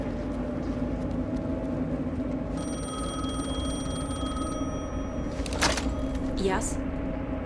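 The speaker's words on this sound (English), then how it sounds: "the phone again." In the video game Alan Wake 2, a telephone bell rings steadily in a continuous trill over a low rumbling ambience for several seconds, then stops, followed by a couple of brief sweeping tones.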